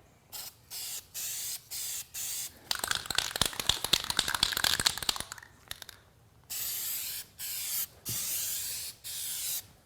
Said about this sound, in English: And also give a test spray